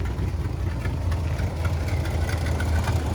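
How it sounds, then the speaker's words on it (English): A Travco L'Esprit motorhome's 440 V-8 big block engine idles steadily with a deep, continuous low rumble, close and moderately loud, with no voices throughout. "I'm sure you guys can hear how the idle has improved."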